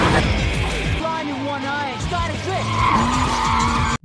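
Car tires squeal and skid on a dock as a beginner driver practises, repeated screeching swoops rising and falling over engine noise, loud and close, ending with a sudden cut.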